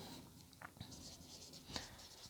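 Writing on a board during a lecture: faint, brief scratchy strokes in a quiet room with low background hiss.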